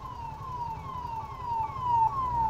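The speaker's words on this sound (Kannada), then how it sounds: "ಆಂಬುಲೆನ್ಸ್ ಬರ್ತಿದೆ" An ambulance siren wails in a steady, rising-and-falling tone as it passes through traffic, growing gradually louder against a low rumble of engines.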